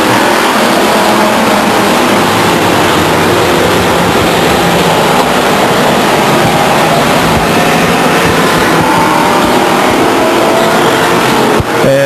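Pure stock race cars racing two and three abreast at Stockton 99 Speedway, a loud, dense roar of engines that holds steady throughout as the pack runs together.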